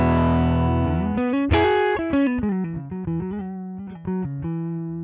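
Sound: electric guitar through Line 6 Helix US Princess amp model

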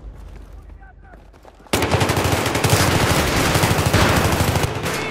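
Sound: gunfire in Battlefield 3 video game

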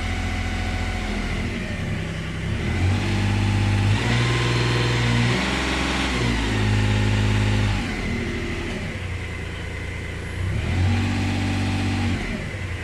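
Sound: Mitsubishi car engine running and revving with vibration

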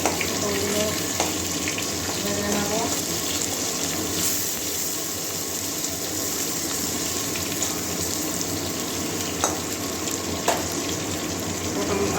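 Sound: potatoes and pointed gourd frying in oil

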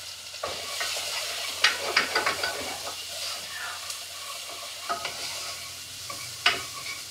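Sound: onions sizzling in hot pan

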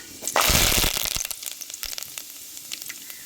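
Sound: fenugreek and curry leaves sizzling in hot oil

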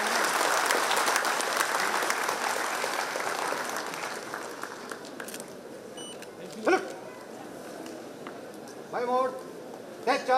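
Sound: applause for retiring police officer

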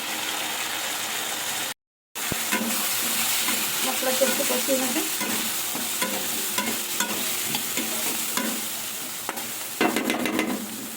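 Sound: spices frying and being stirred for veg soyabean curry

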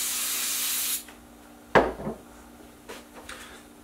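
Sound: brake cleaner sprayed and wiped on engine parts

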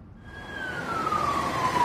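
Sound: emergency vehicle sirens in Salisbury street

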